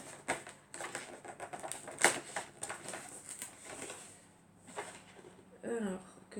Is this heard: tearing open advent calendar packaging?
yes